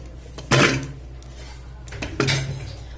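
Two distinct clunks as mangoes drop into a metal pressure cooker pot, each followed by a short metallic ring, close by with quiet pauses between.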